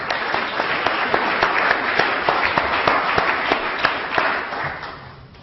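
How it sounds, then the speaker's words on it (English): Audience applause for a conference panel at an infrastructure question-time session: dense, steady clapping from a seated crowd, loud and continuous for about five seconds before tapering off at the end. "please give a round of applause to our panel"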